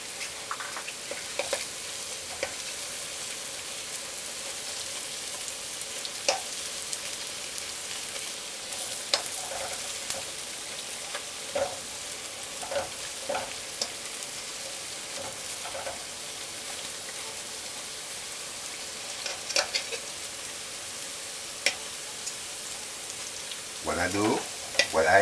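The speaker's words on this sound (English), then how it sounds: "Keep the flame on high because that way it will fry instead of sucking up the oil." Banana fritters fry in oil over a high flame with a constant hiss, sporadic pops and crackles, and a few small clatters near the end.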